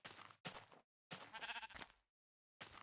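Sheep bleat in the video game Minecraft: four short, clear bleats close up and fairly quiet, separated by brief silent gaps.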